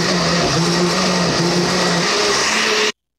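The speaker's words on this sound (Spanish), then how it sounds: "los vamos a moler en la licuadora con el mismo juguito o con la misma agua en la que se remojaron" A blender grinds soaked chiles together with their soaking water, a loud steady whir with shifting motor pitch that runs close and continuous before cutting off abruptly near the end.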